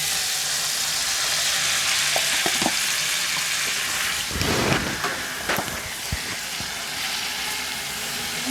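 Meat frying in a pan with garlic ginger paste, a steady loud sizzle punctuated by a few clattering stirs and scrapes, with no voices.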